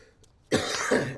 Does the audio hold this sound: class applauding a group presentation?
no